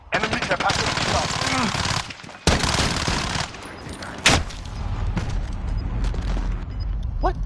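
Dense automatic gunfire and shots in a video game shooter, loud rattling bursts with brief pauses and a sharp blast, continuing under occasional voices.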